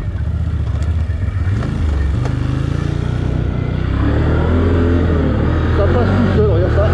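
Can-Am Outlander ATV climbing a steep slope, its engine droning loud and close with rising and falling pitch as it pulls uphill, while a rider talks over it.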